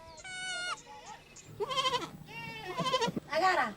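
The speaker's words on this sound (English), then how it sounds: "the goats and cows in our enclosure want to go out and graze." Goats bleating in a farm enclosure in Kenya, several loud, wavering cries one after another at close range, with short pauses between calls.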